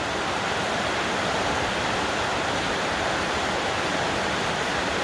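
Heavy rain pours down in a steady, dense broadband wash, loud and continuous with no pauses, easing slightly from an earlier downpour.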